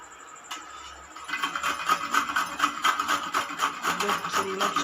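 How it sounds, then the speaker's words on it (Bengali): Pointed gourd (potol) is rubbed against a kitchen grater, producing close, rhythmic rasping strokes that start after a brief quiet moment and repeat quickly until the end. "এটা হলো পটল ঘষে নিচ্ছি। হ্যাঁ, আমি পটল ঘষে নিচ্ছি।"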